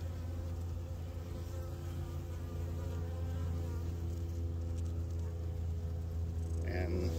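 A dense, steady hum of many honeybees buzzing close by in a newly installed package hive during an oxalic acid treatment, continuous throughout, with a low mechanical drone underneath and a few faint voices.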